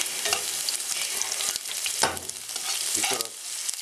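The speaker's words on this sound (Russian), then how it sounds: "Лук покрошен на сковородку." Onions fry close up in a pan with a steady sizzle, broken by occasional scraping and stirring sounds.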